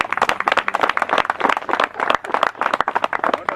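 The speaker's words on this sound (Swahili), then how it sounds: "Wanafunzi, makofi" Students applauding at a clean energy school event, a burst of lively, uneven hand clapping from a group, close and loud, continuing for a few seconds without talking.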